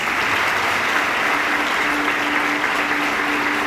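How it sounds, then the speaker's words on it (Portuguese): A church congregation applauds, a dense, even wash of many hands clapping together, loud and sustained throughout with no pauses. "Dê um aplauso a Jesus."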